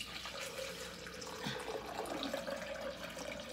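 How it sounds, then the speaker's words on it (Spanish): Water pouring steadily into a blender for green juice with spinach and papaya, a close continuous splashing trickle at moderate level with no talking. "ahora vamos a agregar de la misma agua"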